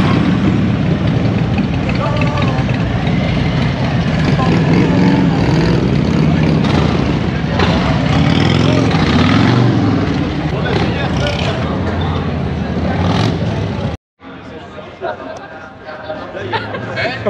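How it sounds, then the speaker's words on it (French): Motorcycle engines rumble loudly beneath lively crowd chatter and nearby voices at a Harley-Davidson gathering in Hardelot; the sound cuts out briefly, then returns more quietly. "Les motos, encore des motos."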